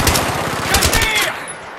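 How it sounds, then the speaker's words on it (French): Dense, rapid machine-gun fire in the Battlefield 3 urban warfare in Iran, loud and close, a steady stream of shots for nearly two seconds before tapering off. "Je tire."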